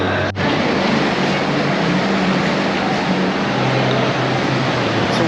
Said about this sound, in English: I think our train is here.